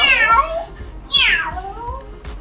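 A voice imitates a cat, giving two loud, drawn-out meows in quick succession during a Gang Beasts game, close to the microphone.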